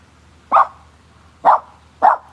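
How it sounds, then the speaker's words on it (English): Three separate barks from dogs at a beach, evenly spaced in about two seconds, fairly loud and close, with a low steady background rumble. "The dogs are freaking out."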